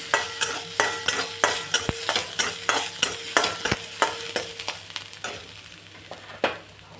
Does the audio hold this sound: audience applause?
no